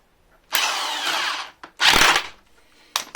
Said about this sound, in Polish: w tym momencie wkręcamy tą śrubę